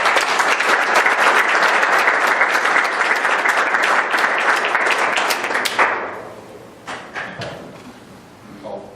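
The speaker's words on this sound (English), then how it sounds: "let's give one more round of applause" Applause fills a township trustee meeting room, steady and fairly loud for about six seconds before stopping abruptly, followed by a few scattered claps and soft room noises.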